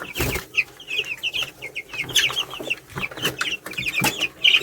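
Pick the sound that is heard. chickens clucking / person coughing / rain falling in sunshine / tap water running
chickens clucking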